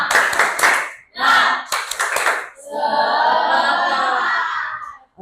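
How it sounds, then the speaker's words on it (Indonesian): A classroom of students performs the rhythmic 'tepuk semangat' spirit clap: quick, close groups of sharp hand claps, followed by a sustained burst of young voices shouting together. "Tepuk semangat."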